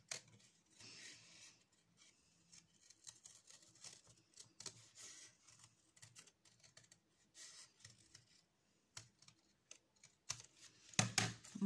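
Scissors cut out a paper circle with a series of soft, irregular snips and rustles close by, quiet and intermittent, ending in a few louder crisp cuts.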